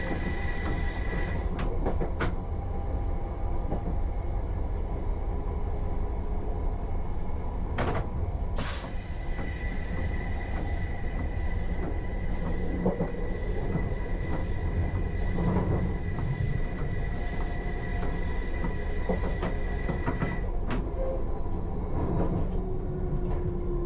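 London Underground Piccadilly Line train heard from the cab in the rain near South Harrow, a loud continuous rumble and roar of running with steady high whines, plus intermittent clunks and squeals as it travels.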